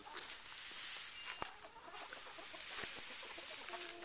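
Chickens cluck softly and intermittently at a distance, with a couple of brief sharper sounds over faint outdoor background.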